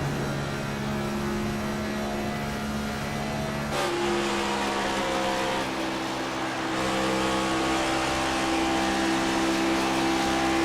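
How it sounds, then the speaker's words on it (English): A NASCAR Next Gen race car in a racing video game, cutting the tri-oval at Kentucky, roars continuously at high engine pitch, with a brief scraping thump around the midpoint as the chassis bottoms out. "You'll hear this car bottom out as he cuts that tri-oval."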